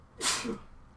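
A single sharp sneeze, brief and breathy, close and fairly loud against a quiet room.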